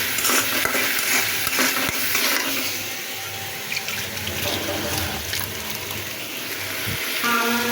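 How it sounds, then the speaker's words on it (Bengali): Dried fish with turmeric, chili powder and salt fries and gets stirred in a pan, a loud, continuous, watery hiss with occasional scraping knocks, heard up close. "এটাকে এখন ভালো করে কষিয়ে নেব"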